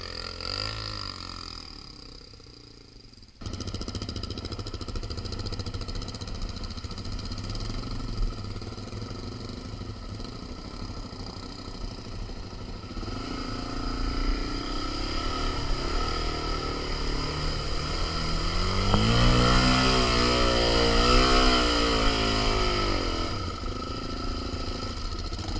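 A Suzuki DRZ400 motorcycle climbs a sand hill on a Cape York trip, its single-cylinder engine droning steadily at a distance before the revs rise and swell louder as it works up the slope.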